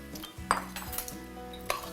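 Barley is stirred in a metal pot, with a spoon clinking and scraping against the sides in a few quick knocks over a low sizzle.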